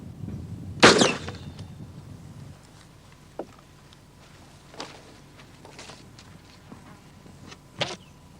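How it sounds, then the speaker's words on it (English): A rifle test-fired once: a single sharp, loud crack near the start, followed by a few faint, scattered clicks and knocks in an otherwise quiet setting. "This is the slug that came from the gun I just fired."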